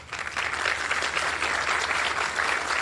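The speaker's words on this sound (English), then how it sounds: "Give them a round of applause." A steady crowd applauding at a live community memorial event, dense clapping that holds at an even level throughout without a break.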